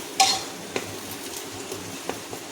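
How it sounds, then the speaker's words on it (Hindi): Tomato and green chili go into frying masala for aloo tahiri, a brief clatter followed by soft sizzling and occasional light taps of a spoon against the pan, close and steady. "अब इसमें टमाटर, हरी मिर्ची ये डाल देंगे।"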